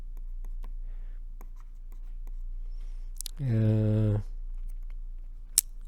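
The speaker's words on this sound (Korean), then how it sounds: "이 곡식이라는 한자를 써보겠습니다" Hand-writing of Chinese characters, with light, scattered pen strokes scratching on paper, close and quiet, and a short burst of speech partway through.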